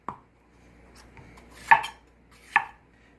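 Cored bell peppers being sliced into strips on a cutting board: a few isolated knife thunks, two louder cuts near the end, in an otherwise quiet kitchen.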